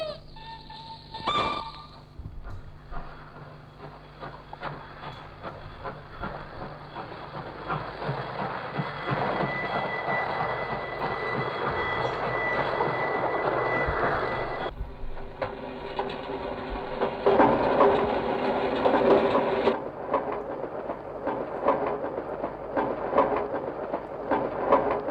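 Railroad train sounds from Pierre Schaeffer's musique concrète piece Études de bruits: a rolling, rattling rail texture with rhythmic clatter that swells and shifts, then cuts to a brighter, busier section partway through. No one speaks.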